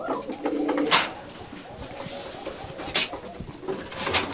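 Rajshahi Giribaj pigeons, including a white male, coo in a loft, giving low murmuring coos against busy background noise, with a few sharp clatters of wings or movement scattered through.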